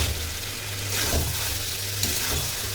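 Chicken pieces sizzle steadily while being sautéed and stirred in a pan for a cashew chicken dish, a close, continuous crackling fry with a low hum underneath and occasional scraping of the spoon.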